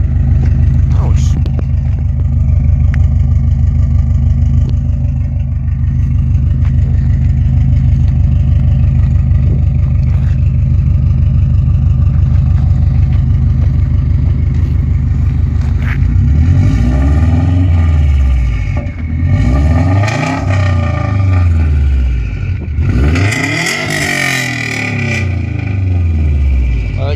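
A 2005 Subaru Legacy 2.5GT fitted with an Invidia full exhaust and downpipe idles with a loud, steady burble, then blips through several sharp revs that climb and fall back, close by and very loud.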